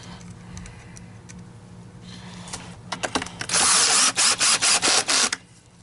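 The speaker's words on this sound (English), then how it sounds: "I'm going to use 5 on this drill, which is kind of a medium torque" A power drill on a medium torque setting drives screws while mounting a part of a Miele Dynamic U1 S7 upright vacuum. It gives a few short whirring pulses, then a loud run that stutters into repeated clicking bursts as the clutch slips.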